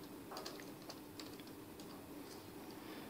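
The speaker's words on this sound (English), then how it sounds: "we are typing 15 and 16" Someone types on a computer keyboard while entering numbers into statistics software, giving quiet, scattered clicking keystrokes against a steady background hiss with no talking.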